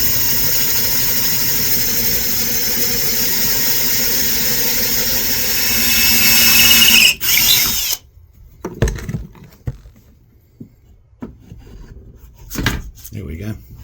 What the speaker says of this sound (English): Let's drill that hole.